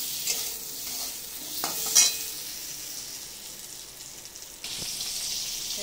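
Pointed gourd pieces fry in oil with a soft, steady sizzle, broken by a few clinks and scrapes of a spatula nearby.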